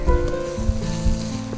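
Coriander powder sizzles in a pan for pepper duck, a brief loud frying hiss over low rumbling bumps from the pan, with no one speaking.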